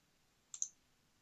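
A single quick double click of a computer mouse, faint and close, in an otherwise quiet room.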